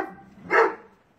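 A dog gives a single sharp bark at close range, preceded by a low growl-like murmur and followed by a brief yip, with no talking over it.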